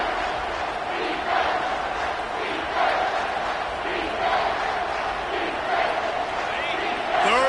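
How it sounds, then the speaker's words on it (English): A loud football stadium crowd at a Florida State game roars in a sustained wall of noise that swells and surges throughout, with a commentator talking over it. "this crowd is tearing the lid off this place"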